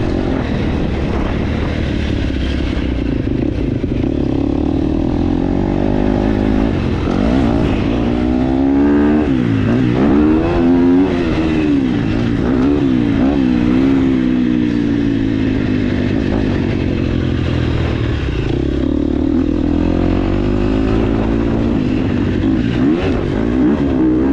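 A KTM 250SXF or Yamaha YZ250F four-stroke motocross bike runs a track lap, its loud engine constantly rising and falling in pitch through gear changes and throttle bursts, close and continuous throughout.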